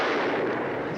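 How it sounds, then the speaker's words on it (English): A single loud, close shotgun blast with a long rumbling roar in a Beverly Hillbillies scene, no talking over it. "Give me that gun. She's about to shoot it down."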